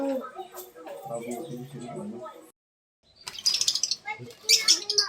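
Someone talks, then after a brief silence small pet lovebirds chirp in sharp, high bursts close by, mixed with soft rustling.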